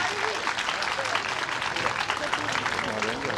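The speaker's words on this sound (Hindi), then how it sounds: "जोरदार तालियों से" Audience applause greeting a Rajasthan government minister at a women's honour event held by a temple trust, sustained crowd clapping throughout with a voice speaking over it on the public address.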